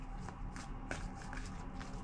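Tarot cards being shuffled by hand, a soft continuous riffling with light repeated flicks and slaps over a steady low background hum.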